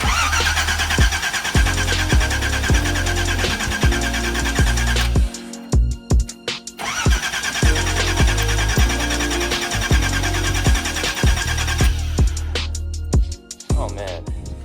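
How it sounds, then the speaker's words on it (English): A Datsun 280ZX engine cranks repeatedly in long rhythmic starter bursts without catching. Two brief pauses break the cranking, which is loud and close. "Now let's see if she finally starts"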